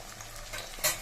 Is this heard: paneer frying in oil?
yes